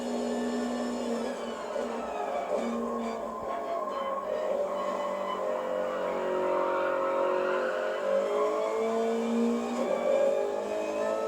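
A race car engine in the Gran Turismo Sport video game drones continuously, its pitch rising and falling with throttle and gear changes, steady and fairly loud with no talk.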